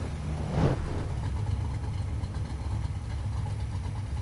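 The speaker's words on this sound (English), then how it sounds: "There's the big rumbly V8." A big V8 car engine idles with a low, steady rumble, close and continuous, after a brief rising swell near the start.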